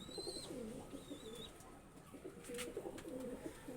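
Kaldoma Madras pigeons, a male and a female, coo in low, throaty rolling phrases that repeat through the clip, close and steady, with a few thin higher chirps early on and no talking.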